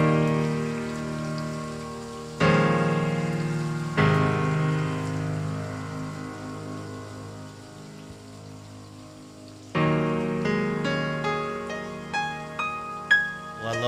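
Rain falling in the opening of a song, a soft steady patter under loud struck piano notes that ring out and decay, with a fresh burst of notes near the end.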